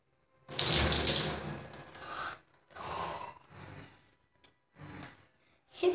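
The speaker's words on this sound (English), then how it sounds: "Oh, it's dripping all the way back." Water gushing and splashing during a water challenge, in several separate bursts: a loud opening pour, then shorter splashes and drips with brief silences between them, heard close with gasping breaths.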